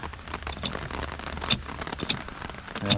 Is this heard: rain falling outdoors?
yes